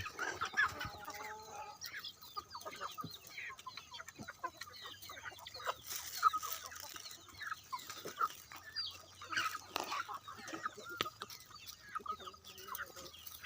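Young red junglefowl chickens, about six or seven months old, cluck and peep repeatedly in a lively, fairly close chorus, with intermittent calls overlapping throughout and faint background ambience.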